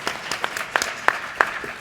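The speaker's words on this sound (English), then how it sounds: "Yeah, you can clap for New York." Scattered applause from a small conference audience: sparse, uneven claps with a few sharper hits standing out, no voices over it.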